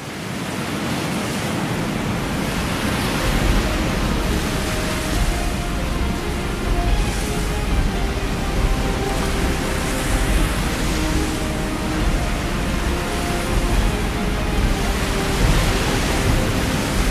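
Waves roll in and crash steadily against the shore during a tsunami disaster drill, forming a continuous broad wash of surf with gentle surges and no voices.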